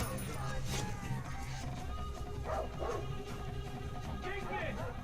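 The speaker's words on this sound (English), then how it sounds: "Okay, dogs are fast." Dogs in the video game Far Cry 4 bark and yip in quick, repeated bursts at close range, heard under game sounds and someone talking.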